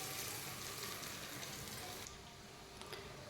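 Chicken nuggets shallow fry in a pan of oil, a soft, dense, rain-like crackle that runs steadily throughout and thins slightly toward the end.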